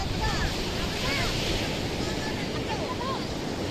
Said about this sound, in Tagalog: malalaki pa ang talbok ng alon